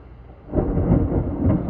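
Thunder from a strong evening thunderstorm in Plum, Pennsylvania rolls in as a deep, broad rumble that swells after a quiet start and holds loud to the end, with no voices.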